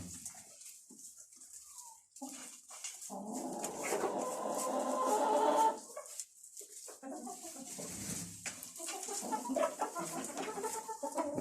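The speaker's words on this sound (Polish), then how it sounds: "O, jak kura śpiewa, czy jest szczęśliwa." A hen clucks and sings in a long, rising and falling run of calls, close and clear, with other poultry faintly clucking in the background of a coop.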